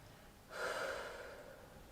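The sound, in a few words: slow exhale during yoga breathing exercise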